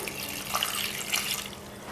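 Water is poured into a pot of beef biryani, a faint, brief splashing hiss that carries on evenly for a couple of seconds.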